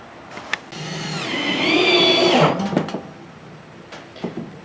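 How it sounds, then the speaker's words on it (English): A power driver runs for a couple of seconds while screws are driven into a chicken and quail pen panel, a rising whine with clicks and knocks before and after. "Now they're actually installing this one, and all he's doing is putting some screws in to hold it."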